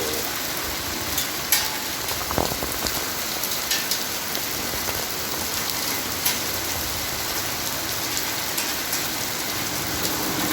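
Steady, dense rain pattering on a surface after a hailstorm as the hail melts, a constant hiss with scattered sharper drops, no voices.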